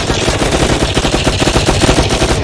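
Rapid automatic gunfire from a shooter match in the Roblox video game rattles continuously and loudly in a dense, unbroken burst of fast shots for a couple of seconds, with no speech.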